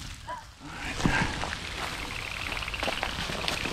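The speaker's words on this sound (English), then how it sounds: "that is sleet hitting the leaves." Sleet ticking and pattering steadily on leaves in below-freezing woods at night, a dense continuous icy patter close by with a few sharper taps.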